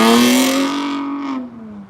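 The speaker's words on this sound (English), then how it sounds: "Some people showing off that they have a loud car." A loud car roars past close by, its engine note strong and steady before dropping in pitch and fading as it moves away, with no talking.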